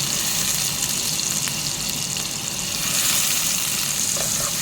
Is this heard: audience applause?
no